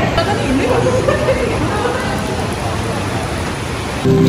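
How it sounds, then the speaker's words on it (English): Rain falling steadily on a city street in Kings Cross, London, a dense continuous hiss with crowd babble mixed underneath throughout. "Need a little bit of shelter because of this rain"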